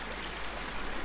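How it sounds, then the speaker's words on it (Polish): Flowing water in the Harry Potter and the Prisoner of Azkaban video game, a steady, full rushing wash like a stream that holds an even level throughout. "spróbuj użyć zaklęcia Glacius, żeby zamrozić płynącą wodą"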